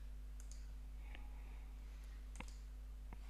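A few sparse, faint keyboard clicks sound on a computer while typing, spaced irregularly over a low steady hum.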